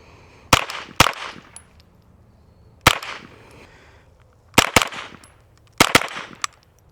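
Shots from a TandemKross .22 rifle ring out at an irregular pace, some in quick pairs, each a sharp close crack with a brief echo, no talking.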